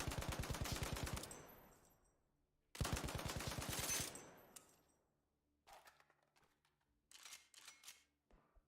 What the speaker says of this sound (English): it's the M249 SAW squad automatic weapon